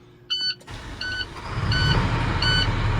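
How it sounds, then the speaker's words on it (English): Engine of a 2013 International dump truck with a 6-speed automatic Allison cranking and catching into a low, steady idle, with short electronic warning beeps repeating over it. "Truck starting, pressure's building."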